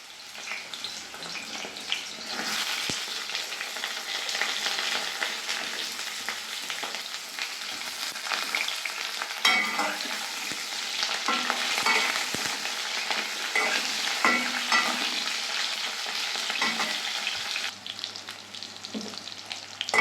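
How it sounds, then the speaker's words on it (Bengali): A loud, continuous sizzle of vegetables, starting with pointed gourd, frying in hot mustard oil in a kadai, with occasional stirring scrapes and crackles throughout. "কড়াইয়ে সর্ষের তেল গরম করে নিয়েছি আমি সবজিগুলো ভেজে নেব"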